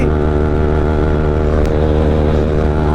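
A Yamaha R15 v3 motorcycle racing a Bajaj NS 200 roars loud and close with a sustained, steady high-revving engine drone and rushing wind noise.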